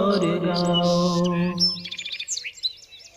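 Small birds chirp in a quick flurry of high, bright tweets, rising close and loud as a sustained sung voice fades out beneath them.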